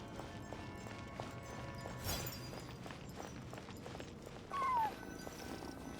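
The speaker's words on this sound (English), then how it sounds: "And so I followed the cat's cries to find my way out." A single short cat meow in the Genshin Impact video game, faint and rising then falling, over a low, steady night ambience with a soft thud just before.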